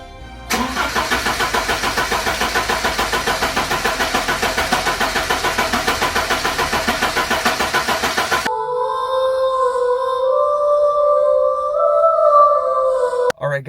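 A 1989 Porsche 944 engine, unstarted for 15 years, cranks over rhythmically and rapidly for several seconds without catching, then stops, followed by a steady tonal hum.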